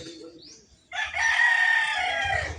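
A neighbour's rooster crows once nearby, a loud drawn-out call lasting over a second after a brief quieter cluck, against a faint outdoor background.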